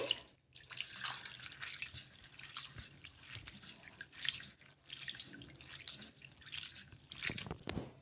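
Water runs and splashes as flattened rice is rinsed by hand, with steady trickling and intermittent sloshing throughout, fairly close and moderately quiet.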